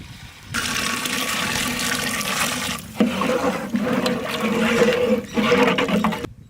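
Water pours into a pot of South Indian crab gravy made with ground coriander, fennel and cumin pastes, a loud rushing splash that runs in a few bursts with brief breaks, close by.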